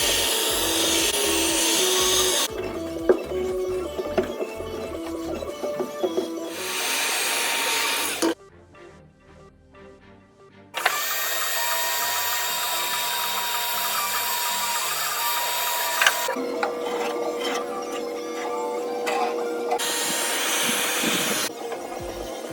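A heat gun blows a steady, loud airy whoosh while softening and lifting car sound deadener, cutting out briefly for a few seconds before resuming, with faint scraping underneath.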